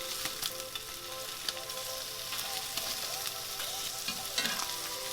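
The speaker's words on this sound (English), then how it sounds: "Place it in the pan. We're just going to quickly give it a little sear." Sliced, already-cooked corned beef sears in a pan with a steady, fairly quiet sizzle and crackle, with occasional small pops and spatters throughout.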